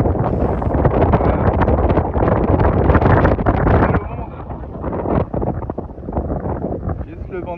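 Strong wind buffets the microphone in a continuous roar, easing slightly partway through, with rushing water and rattling in the background.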